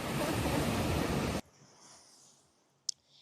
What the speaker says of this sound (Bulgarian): при мен се усеща морския бриз